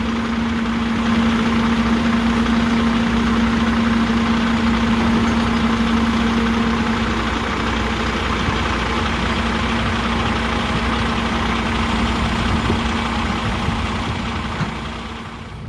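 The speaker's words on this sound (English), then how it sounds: "Just loading gravel trucks." Gravel trucks idle steadily while being loaded on a snowy site near an oil pipeline leak cleanup, a loud continuous mid-range engine rumble with a low droning tone, running alone without talk for the whole stretch.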